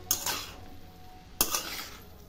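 Grated carrot for gajar halwa being stirred and roasted in ghee in a pan, with two distinct clinks of a spoon scraping against the metal pan a second apart, moderately close and quiet.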